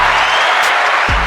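A short, dense burst of audience applause at an event in Marion, Indiana, loud and continuous for about a second before cutting off.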